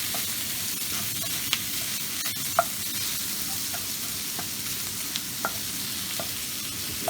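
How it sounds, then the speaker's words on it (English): Sausage and chopped parsley sizzle in a hot pan, a steady close frying hiss broken by small pops and clicks as the pan is tossed. "after tossing in the parsley, I'm going to give it a quick toss"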